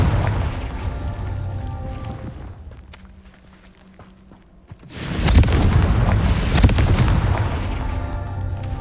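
A Confringo fire spell explosion in Hogwarts Legacy: a loud, close, booming blast after a quieter stretch, followed by a long rumbling, crackling tail.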